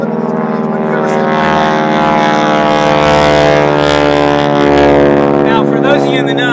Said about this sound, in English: that's a World War II plane.